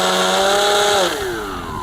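Cessna 182 Plus 1200mm EPO RC plane with a severe vibration, its electric motor and propeller running at about 60% throttle as a steady buzzing whine that drops in pitch partway through.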